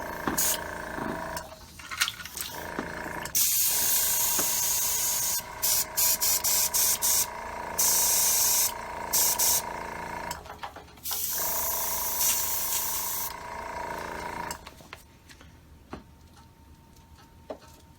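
An airbrush or spray gun hisses in long steady bursts while painting a flat-back shad fishing plug, with short gaps and quick clicking pulses between passes.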